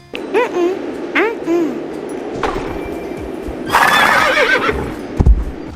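Horses in the online horse game Star Stable give two sharp, close whinnies in quick succession, followed by hoof clip-clops and a louder rushing burst of noise near the end.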